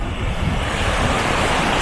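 Sea waves breaking on a beach shore, a steady close roar of surf mixed with wind noise on the microphone, with no talk.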